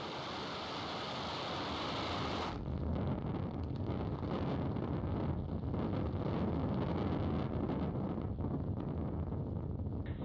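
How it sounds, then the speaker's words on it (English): A SpaceX Falcon 9 rocket lifts off on a Starlink launch, heard as a loud, sustained roar with a dense crackling rumble that holds steady with no voices. "ignition. And liftoff Falcon 9"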